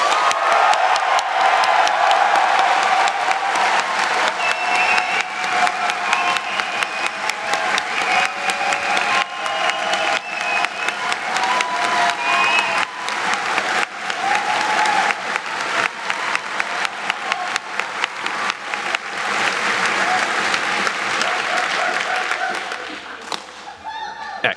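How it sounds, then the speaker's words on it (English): Festival crowd at an electronics and maker camp closing ceremony breaks into loud, sustained applause with cheering and whoops, a dense wash of clapping lasting over twenty seconds before tapering off. "everybody applaud now"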